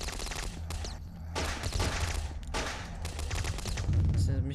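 In the zombie shooter Boxhead, an Uzi fires in rapid bursts of crackling automatic shots that stop and start over several seconds, loud and sharp, with game effects and some talking mixed in.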